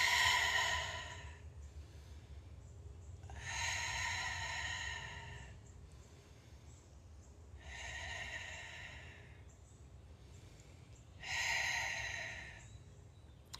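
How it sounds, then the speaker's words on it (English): Four slow, deliberate breaths during yoga breath work, each a long airy exhale rising and fading, spaced a few seconds apart with near silence between, close and fairly quiet. "Breathe in."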